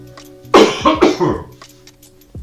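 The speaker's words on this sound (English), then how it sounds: "I got a cough again." Two quick, harsh coughs close to the mic, followed by a brief throat sound, then quiet.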